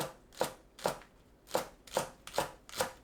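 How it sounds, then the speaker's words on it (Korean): A knife slicing through green onion that has been halved lengthwise, giving about six crisp, evenly spaced cuts on a board, close and clear with no voices. "파는 길게 반 가르고 썰어줍니다"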